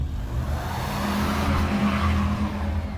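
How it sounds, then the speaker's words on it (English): Car tires spin on ice for a moment before they grip. The skid comes through as a steady, close rushing whine with engine rumble underneath. "The tires spun on the ice for this terrifying second before catching"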